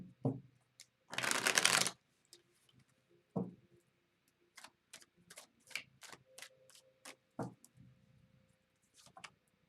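Tarot cards shuffled in a quick riffle, one long loud burst of papery flutter followed by scattered soft card taps and clicks, close up, with no talking.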